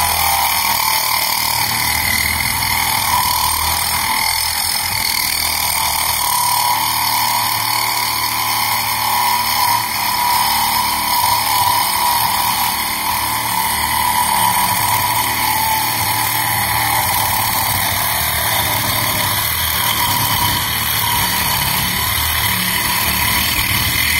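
A Bosch Professional 12V sabre saw cuts through metal with a metal blade, giving a steady, loud motorized buzz with a whining edge that holds unbroken for about twenty-four seconds, with no voices.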